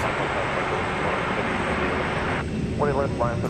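A fixed-wing airliner takes off from a runway at DFW Airport at night, a loud, steady broadband jet roar filling the whole stretch, with brief voices breaking in near the end.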